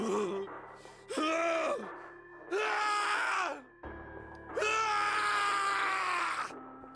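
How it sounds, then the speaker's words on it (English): Snake, a male character in the 999 video game, screams in rage inside an incineration chamber, several loud strained vocal bursts separated by brief pauses over a low droning background. "His scream echoed through the incineration chamber, full of rage and despair"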